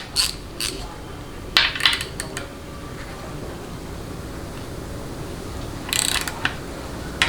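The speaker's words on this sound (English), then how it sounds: "We'll re-zero, and then we'll back out the bolt and see where we are at." Ratchet backs out a bolt on a Ford AOD transmission, giving a few short bursts of metallic clicks separated by quiet pauses, fairly close and moderately loud.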